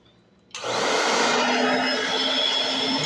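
After a short quiet moment, a milkshake mixer switches on abruptly and keeps up a loud, steady whirring hum.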